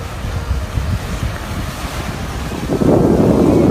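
Rough, choppy sea surf churns steadily while strong wind buffets the microphone, building to a louder, fuller rush near the end along a shoreline frequented by sea turtles.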